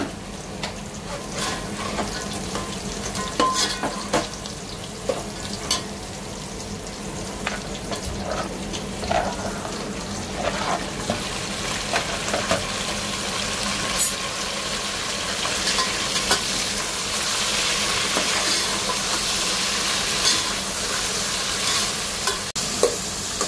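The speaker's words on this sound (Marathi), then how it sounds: "गाजर आणि टोमॅटो टाकूया." Carrots and tomatoes fry in a pan for mushroom pulao, giving a continuous close sizzle with occasional stirring clatter, no talking over it.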